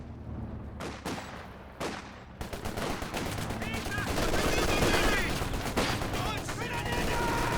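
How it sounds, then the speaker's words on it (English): Rifle grenades and gunfire in Company of Heroes 2 erupt as sharp blasts, then build into dense, rapid bursts of shooting and explosions that swell louder toward the middle, with a voice talking over the action. "Rifle nades, and it's a squad wipe."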